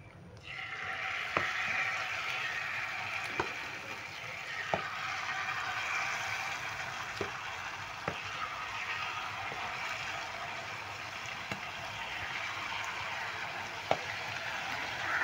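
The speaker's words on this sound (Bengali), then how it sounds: "আবার আমি ভেজে নিচ্ছি।" Jilapi batter fries in hot oil with a steady, loud sizzle and hiss, punctuated by occasional light clicks of a utensil against the pan.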